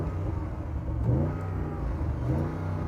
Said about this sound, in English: let's have a listen to the Audi.